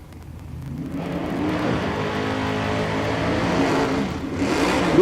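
Drag race cars idle and rev at the starting line of a naturally aspirated big block class event in Ennis, Texas, a loud continuous engine roar that builds steadily, swelling toward the end.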